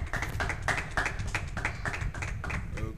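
Audience applause greets guest pastor Reverend Enoch Kalombo arriving on a TV studio set: steady, dense clapping for about three seconds with a rhythmic, musical quality, and no talking.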